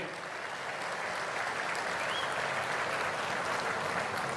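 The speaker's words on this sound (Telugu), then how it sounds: "గట్టిగా చప్పట్లు కొట్టి అభినందించండి" Steady applause from a large audience at a public political gathering, dense and sustained clapping at even loudness throughout with no speech over it.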